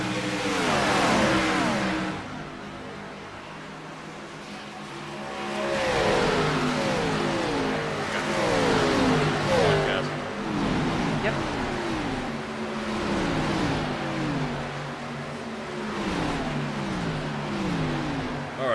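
Race cars lap the Brickyard 400 in a racing video game, engines droning and rising and falling in pitch as cars pass close by, loud and continuous, with a commentator talking over them.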